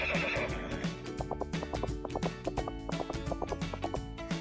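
A horse whinnies and neighs in a long, wavering call, with a steady rhythmic clip-clop of hooves running beneath it throughout, loud and close with no talk.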